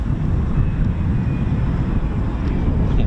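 A Red Arrows jet taxis at RAF Waddington with a steady, loud low engine rumble and a faint high whine, heard alone and without pause under wind buffeting.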